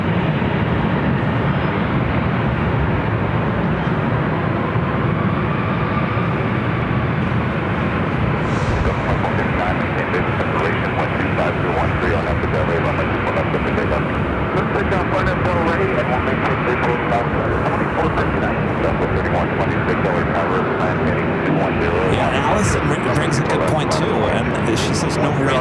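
A Boeing Dreamliner takes off northward at LAX on a Norse flight to London Gatwick, its broad, loud engine roar sustained throughout, with voices talking over it.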